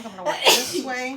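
A single sharp sneeze bursts out in a home kitchen, loud and close, with a person talking around it.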